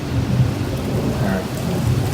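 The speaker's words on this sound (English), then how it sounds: "if we could cue the rain sound, and action" Rain and thunder sound effects at a Universal Studios Hollywood backlot show set, with a steady loud wash of rain and a low rumble of thunder underneath, close and continuous.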